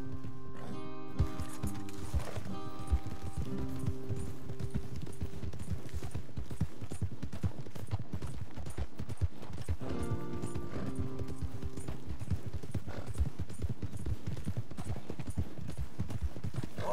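Horse hooves clip-clopping in a steady rapid rhythm throughout Red Dead Redemption 2 gameplay, close and continuous with faint mechanical clatter beneath.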